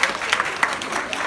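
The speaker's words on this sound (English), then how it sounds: "Give them a round of applause." Audience at a goal-setting seminar applauding, a short burst of many hands clapping at close range with crowd noise.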